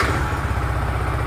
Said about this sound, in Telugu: ఇంజిన్ స్టార్ట్ చేశాను, ఇప్పుడు రన్నింగ్లో ఉంది